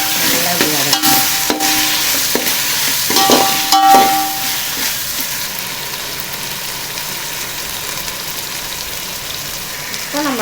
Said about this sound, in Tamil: தக்காளி சேர்த்து வதக்கி விடுங்க